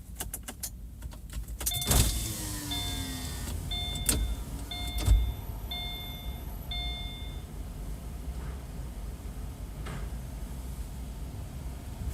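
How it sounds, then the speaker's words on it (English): A truck engine starts up outdoors on a street in Santa Cruz, California, with a couple of sharp clunks, then a steady, fairly loud broadband rumble and hum that keeps running alone. "Oh, that truck must have turned on."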